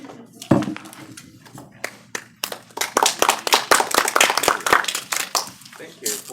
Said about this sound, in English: Thank you for the double clapping.